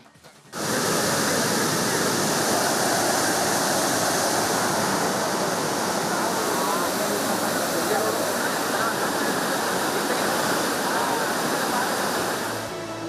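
Mallalli waterfall in Kodagu, Karnataka, swollen by heavy rain, roars as a dense, steady rush of falling water that starts abruptly and continues loud and unbroken throughout.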